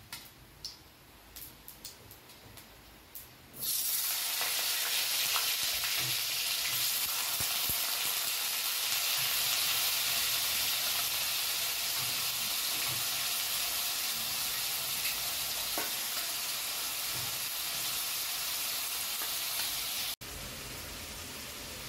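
Potatoes tossed into a pan of hot oil with panch phoron spices for a filling: quiet ticking and clinks, then a sudden loud, hissing sizzle that holds steady and drops slightly near the end.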